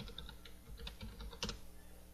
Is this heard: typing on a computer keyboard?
yes